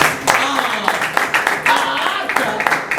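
A church congregation claps and applauds in a room, a dense scattered patter of hands with voices mixed in underneath.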